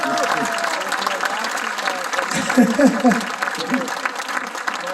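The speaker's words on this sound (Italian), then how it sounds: "va un grande applauso, veramente, è un grande maestro di violino" A concert audience at an outdoor show in Porto Cervo applauds a violin master after his improvisation, a steady wash of clapping with a voice and a few cheers over it.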